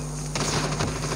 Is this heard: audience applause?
no